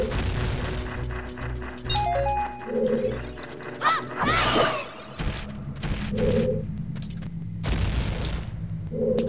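Explosions from the King Dodongo boss fight in The Legend of Zelda: Ocarina of Time, with several loud booms and crashing blasts standing out over the game's music and effects.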